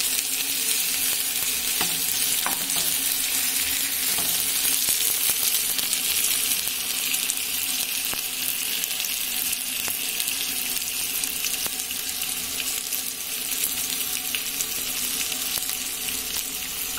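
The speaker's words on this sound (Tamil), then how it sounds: "இப்படி எல்லா மீனும் சுத்திட்டு இப்படி எண்ணெய் ஊத்திக்கலாம். அப்புறம் நல்லா மொறு மொறு நல்லா இருக்கும்." Fish frying in oil in a pan gives a steady, loud sizzle that crackles continuously throughout, with no voices.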